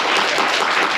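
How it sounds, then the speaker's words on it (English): Students in a lecture hall applaud briefly, a steady patter of many hands clapping that is moderately loud and fades a little within a second. "The applause is waning in its enthusiasm."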